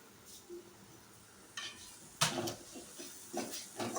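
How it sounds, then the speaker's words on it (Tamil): Spoon scraping and stirring through a masala dish in a pan, a few faint clinks early, then louder scrapes and knocks in irregular bursts. "நம்மளும் கொஞ்சம் கிண்டி விடுவோம்."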